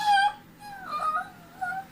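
A dog whimpers and whines close by in a quiet room, giving a few drawn-out, wavering cries over about two seconds with nobody talking.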